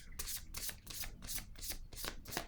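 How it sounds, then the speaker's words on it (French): A deck of tarot-style cards being shuffled and drawn in steady repeated riffling bursts, close and fairly loud, with no talking. "Donnez-moi une autre carte."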